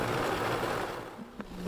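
A blender runs on low speed, mixing sweet peppers with a little water for fermented hot sauce, a loud continuous motor whir close by that dips slightly toward the end.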